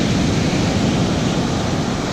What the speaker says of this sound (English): And then another wave comes up behind you like this.